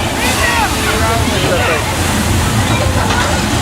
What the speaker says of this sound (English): The flood is created with thousands of gallons of water kept in tanks at the top of the hill.